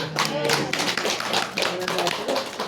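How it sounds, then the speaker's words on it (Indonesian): A small crowd at an Islamic study gathering claps in a brisk, uneven patter, with a voice briefly audible beneath the applause. "Mana tepuk tangannya?"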